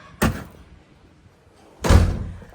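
A back door handled while flattened delivery boxes are put outside, two separate heavy thuds about a second and a half apart, close and fairly loud in a quiet domestic room.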